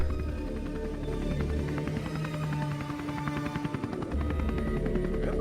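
A plane flying over a golf course in a cutscene from the video game Neofeud, a steady droning engine roar with a pulsing, rotor-like throb that holds at a constant level throughout.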